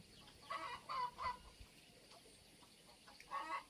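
Bursts of chicken clucking, a few short clucks in two groups with a quiet pause between, fairly faint against a soft outdoor background at a hut among rice fields.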